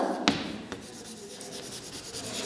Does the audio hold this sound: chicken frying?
no